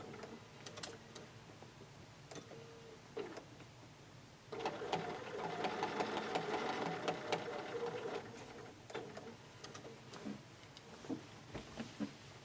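A sewing machine stitches quilted fabric blocks, a steady rapid mechanical chatter swelling for a few seconds in the middle, with quieter intermittent ticks and short runs of stitching around it.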